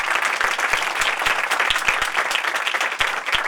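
A church congregation claps together at a Christian prayer gathering, loud and sustained, with sharp individual hand claps standing out over dense crowd applause.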